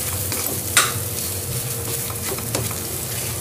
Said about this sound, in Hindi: आलू जरा मन के रखल गया ओके डालल जाए। अब एक हमन के अच्छे से मिला देवल जाए।